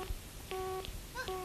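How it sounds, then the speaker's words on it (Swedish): Telephone dialing tones, several short separate beeps spread over a second and a half, clear and fairly close with no talking over them. "Julian, ta och ring upp fröken Ur och säg att vi vet vad klockan är."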